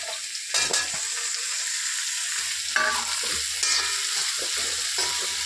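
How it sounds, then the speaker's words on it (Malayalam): Eggplant, green chili and drumstick sauté in a pan, giving a steady close sizzle with bursts of stirring and scraping throughout. No one speaks. "എല്ലാം കൂടെ നമുക്കൊന്ന് വഴറ്റിയിട്ട് നമുക്ക് ചട്ടിക്കകത്ത് വെക്കാം"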